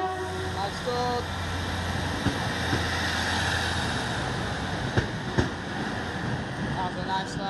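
A train rumbles steadily nearby as it pulls away from Crewe station, with a sustained tone and a few clanks, and a faint horn-like note early on.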